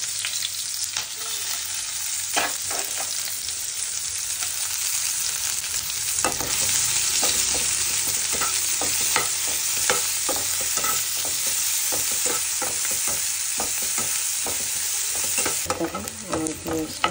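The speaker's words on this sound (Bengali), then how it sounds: "আমার পেঁয়াজটা ব্রাউন করে ভাজা হয়ে গেছে।" Chopped onions fry in a pan for lentil dal, keeping up a continuous close sizzle with frequent clicks and scrapes from stirring, with no talk over it.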